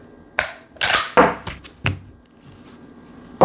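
Sharp metallic clacks and slides from a pump-action shotgun being racked and dry-fired, several loud close strikes spaced irregularly with quieter handling noise between.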